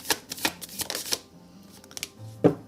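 Tarot cards shuffled and drawn from a deck, a burst of quick riffling flutters in the first second or so, then quieter slides and a single soft card snap near the end, no talking.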